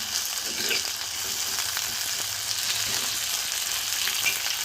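Vegetables sautéing in a little oil for a tomato soup, a steady close sizzle and crackle running without a break, with a few faint stirring scrapes and no voices.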